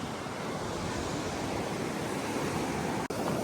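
Sea surf at high tide on Kakolem Beach in Goa rolls in as a steady, full, close roar of breaking waves with a constant wash and no voices, and one very brief dropout near the end.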